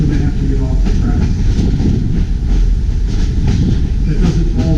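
A passenger train on the New Hope Ivyland Railroad rumbles steadily along the tracks with a dense low roar and faint rhythmic clatter, loud and close throughout, with no pause.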